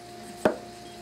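A single sharp knife chop through chayote or onion on a cutting board, one brief crisp thud in an otherwise quiet kitchen.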